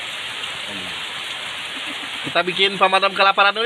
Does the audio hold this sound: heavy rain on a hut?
yes